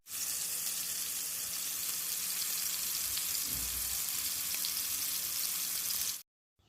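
Chicken keema garelu fry in hot oil in a pan, giving a steady, loud, close sizzle that continues without a break, with a brief low thump partway through, then it cuts off abruptly near the end.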